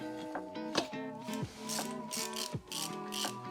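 A brake caliper goes back onto a Yamaha XS 650 motorcycle with a run of close metallic clicks, ratcheting and clanks, and short tonal rattles in between.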